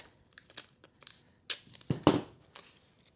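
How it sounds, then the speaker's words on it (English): Strips of tape are torn off the roll and pressed onto the antlers of a European skull mount, heard as close, short crinkly tearing and crackling bursts spaced irregularly across a quiet background. "we're going to tape that up"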